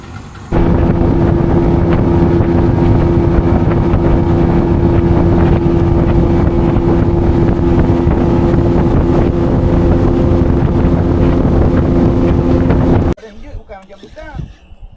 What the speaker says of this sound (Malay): Okey, enjin dah start.